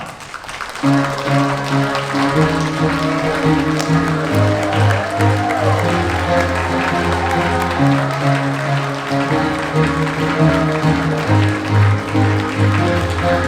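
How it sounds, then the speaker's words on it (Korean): Applause for the groom's entrance at a wedding ceremony in a convention ballroom, steady clapping from guests running throughout beneath loud processional music with a strong bass line. "입장 시 큰 박수로 축하해 주시기 바랍니다"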